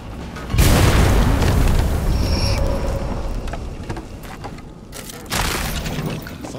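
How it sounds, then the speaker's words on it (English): Explosion in Flintlock: The Siege of Dawn, a loud sudden boom that rolls into a long rumbling wash of debris, then a second softer burst near the end, with no talking. "Yahara's explosion."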